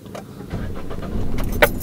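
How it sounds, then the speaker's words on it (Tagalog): A manual car's engine is started with a key turn, a brief metallic key jingle followed by the engine catching and running in a steady low rumble close by. "Ipihit na natin ang ating susi. Yung huling pihit, yan yung engine start."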